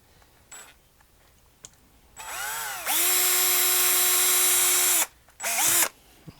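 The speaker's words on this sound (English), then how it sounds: "Take your drill." A power drill spins briefly, then runs steadily for about two seconds at high pitch drilling a pilot hole for a Hayward AquaVac pool cleaner wheel repair, stops, and gives one more short burst.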